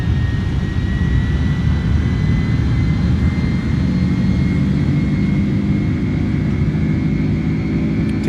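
Airbus A310 jet engines hold takeoff power in a flight simulator, giving a loud, continuous roar with a steady high whine running above it and no voices.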